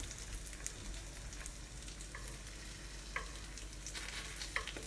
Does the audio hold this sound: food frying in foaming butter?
yes